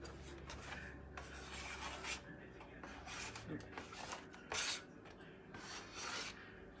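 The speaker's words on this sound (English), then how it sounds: "Scrape that, please." Utensil scraping food out of a skillet while making sausage and creamy orzo, soft repeated rasping strokes close by, with faint voices now and then.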